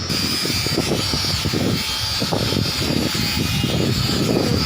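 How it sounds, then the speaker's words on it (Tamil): Loud, steady mechanical engine drone from machinery used in engine repair work runs continuously with a rough, rumbling texture and a high whine on top; no one speaks. "இந்த இன்ஜின் வேலை பார்க்குற சவுண்டுகள்லாம் கேட்டுருக்காங்க மிஷின் வச்சு வேலை பார்க்குறாங்க"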